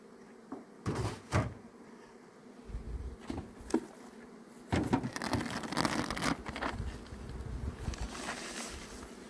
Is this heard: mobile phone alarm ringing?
no